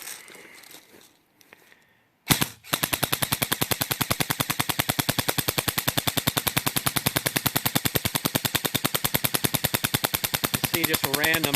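An airsoft gun fires BBs full auto at a sight shield from about three feet, a long, rapid, evenly spaced stream of sharp clicking impacts after a brief single shot, loud and close.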